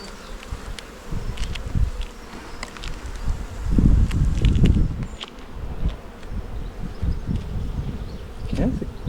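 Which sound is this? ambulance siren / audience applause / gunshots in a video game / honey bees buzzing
honey bees buzzing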